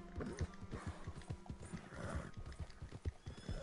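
A horse in Red Dead Online makes steady clip-clop hoofbeats at a rhythmic pace, with a neigh or snort mixed in, moderately close over a busy game soundscape.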